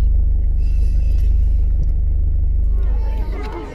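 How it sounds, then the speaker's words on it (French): A garbage truck rumbles along a street with a loud, steady low engine drone and throb that dips slightly near the end, while someone speaks over it. "On aime les camions poubelles quand on est pressé."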